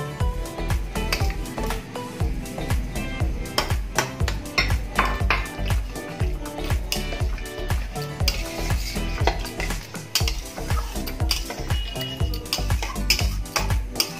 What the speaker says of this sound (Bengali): পনির গুলো ভালোভাবে মিশিয়ে দিয়েছি।